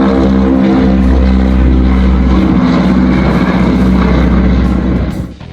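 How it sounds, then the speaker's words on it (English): A Grumman C-2A Greyhound, a US-built twin-propeller carrier transport aircraft from the 1960s, drones loud and steady with a strong low hum and a constant roar throughout, fading slightly at the very end. "The Grumman C-2A Greyhound entered service in the 1960s, built by Grumman in the United States."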